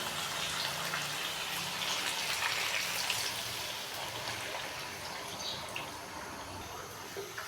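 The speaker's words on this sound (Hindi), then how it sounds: "चिकन को अच्छे से भूनने के बाद अभी मैं इसके अंदर 1 कप पानी डालूंगा।" Water poured into a pan of frying black pepper chicken, giving a broad, steady sizzling hiss and watery rush that holds fairly even for several seconds, then eases slightly.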